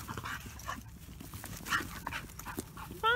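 A Dogo Argentino male dog pants and whimpers in rough play with another dog, breathy huffs and short whines at middling distance, with rustling and scuffling around them.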